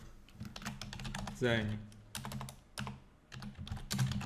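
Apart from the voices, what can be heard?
typing a keyboard shortcut on a computer keyboard in Revit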